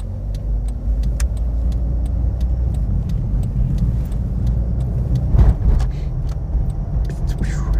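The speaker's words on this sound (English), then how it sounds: "One more car." Car passing on Prairie Avenue in Cheyenne near a mall and tire shop, a steady road rumble with one vehicle swelling past mid-clip, heard from inside a moving car with faint ticking in the background.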